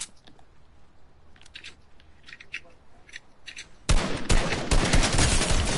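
A shotgun fires in Fortnite Creative. Faint scattered clicks come first, then a loud close burst of sharp blasts and crackling impacts crowds the last couple of seconds.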